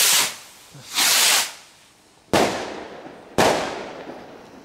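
Backyard firework rockets on Guy Fawkes Night launch with two long rushing hisses, then two sharp loud cracks that trail off into a fading hiss, close and outdoors with no talk over them.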